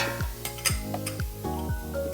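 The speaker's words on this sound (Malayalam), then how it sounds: "നമ്മൾ പൊടിയായി അരിഞ്ഞ ഇരുമ്പാമ്പുളി, ചേർത്ത് നമുക്ക് ഇളക്കി മൂടാം." Repeated scraping strokes, roughly two per second, of a spoon stirring finely chopped iron bilimbi (irumban puli) in a pan for a thoran, close up, over a soft steady sizzle with light clinks of utensil on metal.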